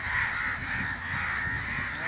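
Crows caw from a busy outdoor flock, hoarse repeated calls layered into a continuous noisy din, fairly distant and steady without speech.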